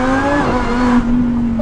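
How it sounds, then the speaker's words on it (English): Supercharged Lamborghini Huracan Performante V10 holding a loud, steady exhaust drone with a faint supercharger whine on top, the pitch shifting slightly as it revs, close and alone. "when you add that supercharger, it has that beautiful V10 note, that little bit of extra whine, more crackles, and it's louder"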